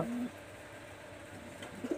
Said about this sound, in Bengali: এখানে আরও একটা কবুতর আছে